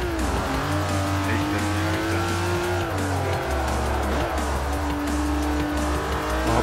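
A car drifts in the racing game Forza Horizon 4: the engine drones loudly and shifts in pitch while the tires squeal continuously through the slide. The sound stays close and steady.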